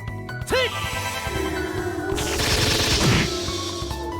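An airstrike attack in the fantasy video game The Legend of Heroes: Trails in the Sky: a rising whoosh, then a dense rattling barrage of rapid impacts swelling into a loud crashing burst before tailing off.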